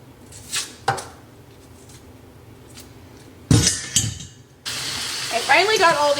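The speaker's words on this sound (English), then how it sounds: "I'm gonna wash our onions because they are really, really dirty" Dirty garden onions and potatoes are rinsed under a running kitchen tap, with a few clinks and knocks, then a steady gush of water splashing alongside sounds of handling vegetables, plus brief voices.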